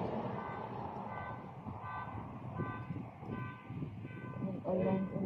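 A vehicle horn sounds in short bursts from inside or near a car on the road toward a campground near Parry Sound, Ontario, mixed with engine rumble while people talk over it.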